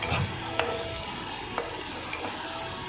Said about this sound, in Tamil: ஒரு 5 மினிட்ஸ் மட்டும் இதை வதக்குங்க